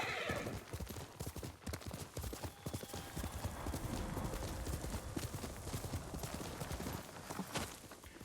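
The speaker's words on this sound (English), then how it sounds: "What are you doing over there, horse?" A horse gallops in the Ghost of Tsushima video game, its hooves pounding in a fast, steady rhythm that runs throughout, with a brief whinny near the start.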